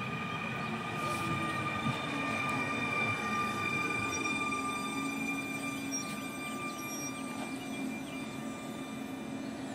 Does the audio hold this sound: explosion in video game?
no